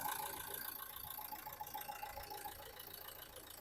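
A 2014 Nissan Terrano RXZ diesel engine idles steadily with a faint, even mechanical hum and light rattle, heard alone with the engine bay open.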